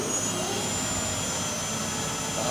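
A Clausing Metosa CNC flat bed turning center from 2004 runs its spindle in high gear, a steady whirring hum with a faint high whine, continuous and close.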